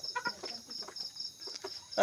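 A native chicken clucks in short, soft bursts, a few close clucks spread across the moment against a quiet outdoor background.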